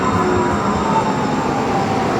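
Steady, loud rumble of a Yellow Line light-rail train riding into Washington, with continuous wheel and motor noise and no voices.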